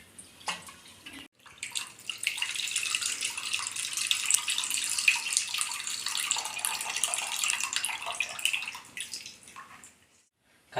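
Soaked lentils (dal) rinsed under running tap water for a sustained, steady rush and splash lasting several seconds, close and fairly loud, with no talk.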